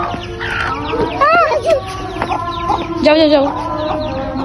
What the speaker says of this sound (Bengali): এখানে মুরগি দিয়ে খেলা করছে